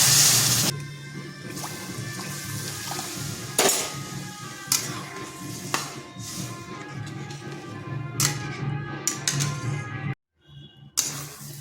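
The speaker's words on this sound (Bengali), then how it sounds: "এরপর এখানে দিয়ে দিচ্ছি ওই বাটির 2 বাটি জল।" Water added to a pan of lightly fried semolina: clattering metal clinks, knocks and splashes come up close and loud, with scraping and a brief quiet gap near the end.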